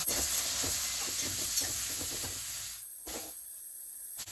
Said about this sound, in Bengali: এই লাল লাল করে আমি পটলটাকে ভেজে নিয়েছি।